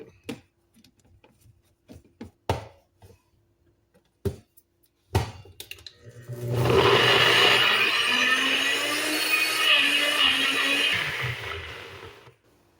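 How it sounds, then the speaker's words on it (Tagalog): A few clinks and knocks, then a blender starts and runs steadily for several seconds blending beetroot with a little water, loud and close, winding down at the end. "Then, ibe-blender natin siya."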